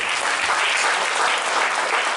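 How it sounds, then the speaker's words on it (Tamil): A conference audience in Jaffna breaks into sustained applause, a dense, even wash of many hands clapping at steady loudness throughout, with no voices standing out above it. "ஒரு பலமான கரகோஷம் கொண்டு நீங்கள் வழங்குங்கள்"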